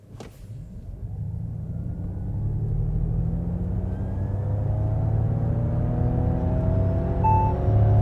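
A Ford Mustang Mach-E electric car accelerating hard with its sound generator switched on, a steady synthetic engine-like tone rising in pitch over several seconds, loud and continuous with road rumble underneath and no talking.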